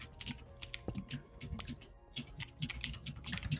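Fast, uneven typing on a computer keyboard during a game session, with close, crisp key clicks in quick bursts and brief pauses.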